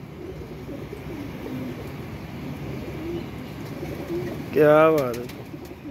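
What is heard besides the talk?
pigeons cooing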